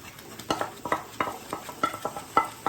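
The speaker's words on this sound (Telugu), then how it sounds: "ఇప్పుడు నేను కోవా వేస్తున్నాను" Khova being stirred into carrot halwa in a pan, with a spatula scraping and scooping in an irregular rhythm of soft, close strokes over a faint sizzle.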